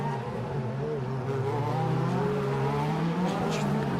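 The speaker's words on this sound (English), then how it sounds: "Heavy braking." An Adrien Tambay DTM race car braking heavily at the Norisring street circuit, its loud engine note held close and slowly falling in pitch, with no voices over it.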